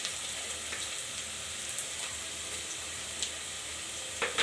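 Chicken fries in a pan, browning with a little salt, giving off a continuous sizzle and occasional scrapes of stirring, steady and close with no voices.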